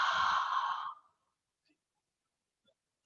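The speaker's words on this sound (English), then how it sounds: "Open the mouth and exhale through the mouth." A single breathy exhale through an open mouth during a yoga session, close and clear for about one second, then near silence.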